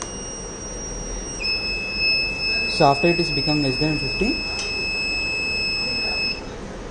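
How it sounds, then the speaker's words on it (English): A steady high-pitched electronic buzzer tone from a battery management system's temperature alert at 50°C sounds continuously, with a person talking over it partway through. "it will give a buzzer alert here."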